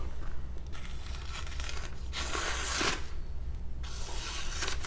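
A BD1N steel kitchen knife slices through paper, making a steady papery hiss with brighter, harsher rasping bursts in the middle, heard close with no talk.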